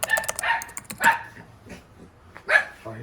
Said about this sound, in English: I hear puppies.